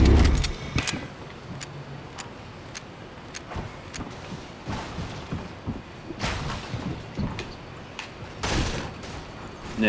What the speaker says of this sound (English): I'm driving right inside this house.